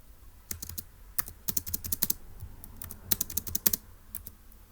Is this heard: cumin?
no